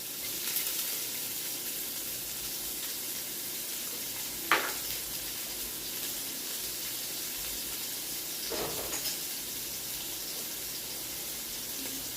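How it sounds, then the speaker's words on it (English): Chopped garlic and onion sautéing in a pot for Trinidad curry chicken, a soft continuous sizzle with a couple of brief clinks, fairly quiet with no talking. "You hear that sizzle? That is what you want."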